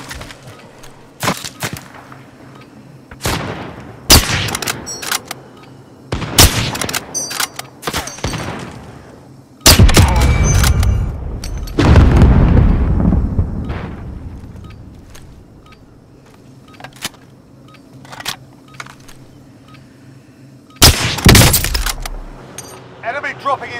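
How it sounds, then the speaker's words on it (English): Call of Duty: Warzone gameplay brings scattered gunshots, bursts of fire and a large rumbling explosion, loud and sharp, with voices speaking over the action at times. "Receiving hostile fire!"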